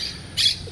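A monk parakeet, also called a Quaker parrot, gives one short, harsh squawk from a tree, clear and moderately near against quiet outdoor background.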